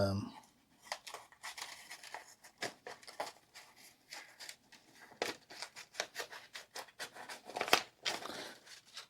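A Leatherman Surge or clone multitool's scissors cut paper, with a series of faint, irregular crisp snips and paper crinkles, close and quiet, with soft talk at times.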